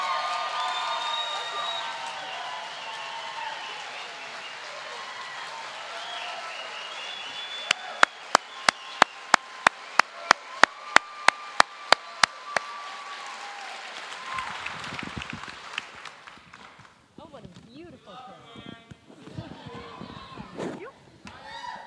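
A conference crowd applauds as a speaker is introduced at a conservative event: a broad wash of clapping and cheering with a burst of sharp, close handclaps in the middle, fading as a voice begins speaking.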